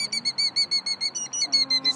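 A bird calls outside a church after a service, sounding a rapid series of about fifteen bright, even, whistled chirps, loud and close, with faint voices talking underneath.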